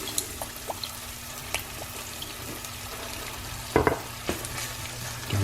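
Dijon mustard and Worcester sauce sizzling in a pan as it is stirred, heard alone as a soft steady frying hiss with light scattered ticks and one louder scrape near the end.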